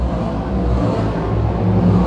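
Modified race cars at a 358 modified feature on an oval speedway roar steadily down to the line, a dense, loud, sustained engine drone with no break and no voices.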